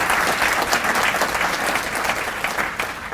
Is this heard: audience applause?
yes